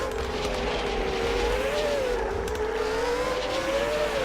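Race car engine in the video game New Star GP, a steady high-pitched whine that rises and falls slightly as the car holds position in a slipstream, loud and continuous with no talk.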